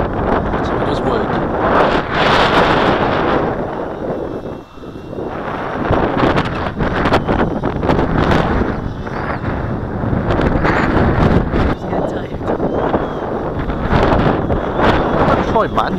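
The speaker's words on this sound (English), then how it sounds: "it's a little bit windy" Strong wind buffets the microphone during a test flight of an Align M690L drone in 30 mph wind, a loud continuous rumbling roar with gusty surges and no clear talk.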